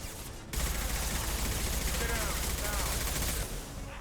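Sustained automatic gunfire from Mass Effect 2, a dense loud rattling burst lasting several seconds before easing off, with in-game voice fragments mixed underneath.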